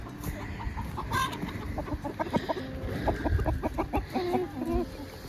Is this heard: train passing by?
no